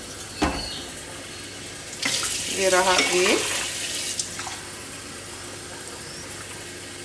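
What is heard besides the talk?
pouring water into a pot of lentils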